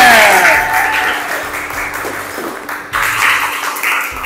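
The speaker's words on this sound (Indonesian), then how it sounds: "tepuk tangan dulu untuk Revina" A classroom group claps for a student named Revina, with a dense, even burst of applause that dips briefly near the end and then swells again.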